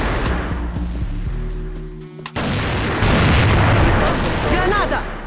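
A grenade goes off in the CrossFire shooter game, a heavy boom followed by ongoing game noise and crackling, with gunfire-like hits and a person talking over the action.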